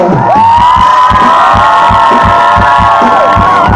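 A concert crowd cheers as a band member is introduced at a show in Šternberk: loud massed whooping and shouting held over a pounding, regular low beat from the music.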